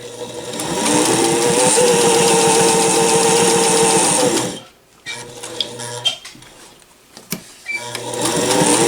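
A SINGER Fashion Mate 257 vintage sewing machine drives through four layers of velour upholstery fabric in a loud, steady mechanical run of about four seconds, then stops; scattered clicks and handling sounds follow before the motor starts up again at the end.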